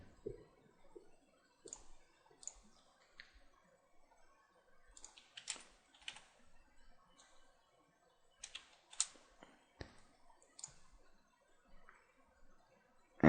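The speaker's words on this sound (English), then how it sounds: "So we'll just type that in." A value is typed on a computer keyboard in short bursts of close, quiet key clicks separated by pauses, with no talking.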